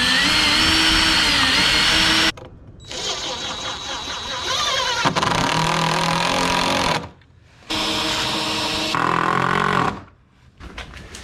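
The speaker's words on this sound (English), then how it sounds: "to drill the holes, I've just got my recessed drill bit" A power drill with a recessed (countersink) drill bit whirs loudly in several long bursts, pitch shifting as it bites in, separated by brief quiet pauses.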